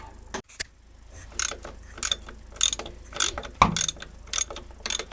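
A ratchet wrench clicks in quick repeated bursts while a nut comes undone on a Land Rover Defender 300Tdi engine, the sharp mechanical ticks close and fairly loud, with brief pauses between strokes.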